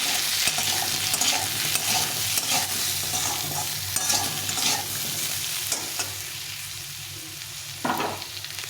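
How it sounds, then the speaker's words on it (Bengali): Elephant foot yam and potato pieces fry with salt and turmeric in a hot pan, with a loud close sizzle and frequent spatula scrapes and stirs that ease off toward the end, and no talking. "এখন আমি এর মধ্যে দিয়ে দেবো পরিমাণ মতো লবণ আর হলুদ গুঁড়ো দিয়ে একটু ভালো করে ভেজে নেব"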